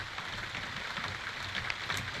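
Steady rain pours on an off-grid tiny house cabin build site, a dense even hiss with soft scattered drops, moderately loud and continuous, with no voices.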